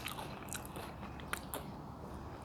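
Someone bites into and chews a freshly fried homemade spring roll, soft crunching and munching at close range, with a few sharper crisp cracks in a quiet room.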